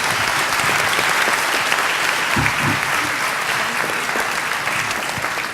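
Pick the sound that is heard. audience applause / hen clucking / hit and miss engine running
audience applause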